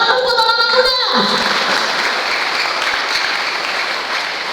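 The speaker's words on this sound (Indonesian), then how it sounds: "Tepuk tangan untuk anak-anak muda" Congregation applause for the young people at a Pentecostal church service in Pontianak, a speaking voice fading out at the start before sustained, loud clapping fills the room.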